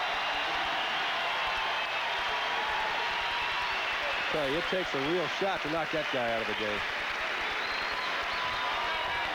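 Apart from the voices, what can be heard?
crowd applauding at a basketball game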